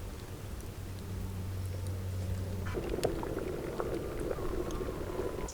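Milk simmering with rose petals and condensed milk bubbles softly in a pot, a quiet steady burble with a low hum that stops partway, followed by a few clinks and stirring sounds.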